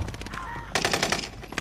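Rapid machine gun fire in a first-person shooter video game, a loud stuttering burst after a brief quieter moment, with no speech over it.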